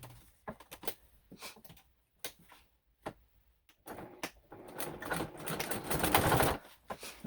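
A sewing machine top stitching a bag runs in short bursts of rapid mechanical ticking and whirring, stopping and starting, then a longer continuous run near the end, close and fairly quiet.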